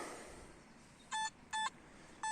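Metal detector sounding while hunting near a river: three short, clean electronic beeps at steady intervals, loud and close, over a faint background hiss with no talking.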